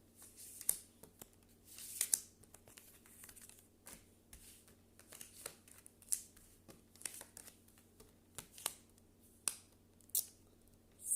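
A tarot card deck being cut and handled: soft, quiet clicks and card slaps at irregular intervals, close up, over a faint steady hum.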